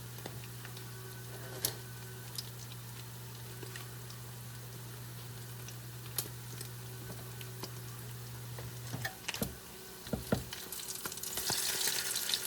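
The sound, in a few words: salmon patties frying in a pan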